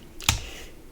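A single crisp keystroke lands on a computer keyboard as a command is typed, one short close tap in an otherwise quiet room.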